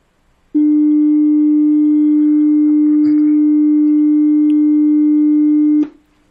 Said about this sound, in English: you can kind of hear that we are getting a little bit distortion